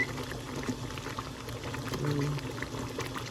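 A pot of yellow rice boils steadily on the stove, giving a continuous soft bubbling and popping texture that stays close and even throughout.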